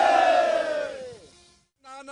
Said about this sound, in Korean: 다시 한번 대한독립 만세의 외침이 울려 퍼집니다